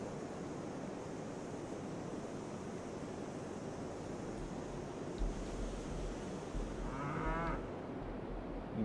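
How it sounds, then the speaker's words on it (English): A single drawn-out cow moo rises near the end over a steady windy, surf-like background in the video game RailRoads Online, where a herd of cattle waits to be moved. "That's like a whole herd of cows."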